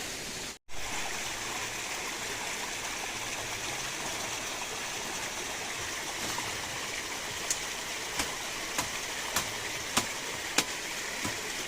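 A waterfall and stream flow through scrubby forest, giving a soft, steady distant rush of water, with faint clicks and taps scattered through the latter half.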